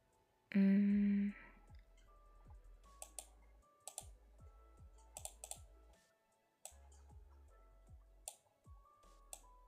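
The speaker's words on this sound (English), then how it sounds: "That's some intense typing." Brisk, intense typing on a computer keyboard, with close, quiet key clicks tapping in quick irregular bursts and brief pauses in a still room.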